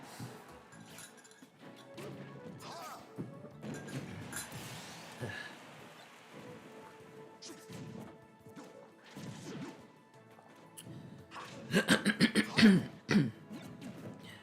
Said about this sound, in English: Done coughing up half of my lungs